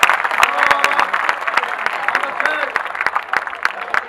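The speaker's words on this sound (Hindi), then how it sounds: "तालियां एक बार हाथ उठा के बजाओ, जोरदार" Audience clapping at a Hindi stand-up comedy show, dense hand claps with sharp individual slaps standing out, lasting around four seconds and mixed with some crowd voices.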